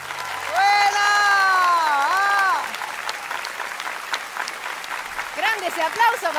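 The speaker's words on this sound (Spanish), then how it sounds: "¡Grande ese aplauso para Esteban!" A studio audience at a televised singing competition claps for a contestant after his performance, the applause steady beneath a sustained vocal note at first, then fading while people talk.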